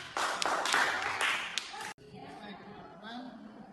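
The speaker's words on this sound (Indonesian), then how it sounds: "Beri tepuk tangan teman-teman." Classroom students clap together in a tenth-grade English lesson, a burst of brisk, close clapping lasting under two seconds that cuts off abruptly, followed by quieter room chatter and voices.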